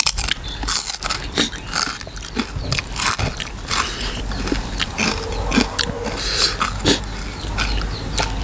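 Up-close crunchy biting and chewing of a pounded green snake-plant salad with cooked shrimp, a rapid irregular series of crisp crunches and wet mouth sounds continuing throughout.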